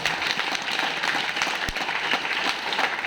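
An audience at a Modicare business event applauding: a loud, dense wash of clapping that holds steady throughout, with no clear talk over it.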